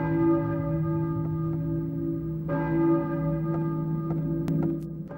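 Church bell tolling in the video game Silent Hill, sustained ringing tones with layered overtones swelling again midway, steady and fairly loud with no talk.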